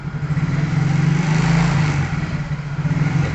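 A 2014 Yamaha Mio GT scooter engine runs steadily near the listener for a few seconds, its throttle opened into a modest rise in pitch midway before settling back to a pulsing idle.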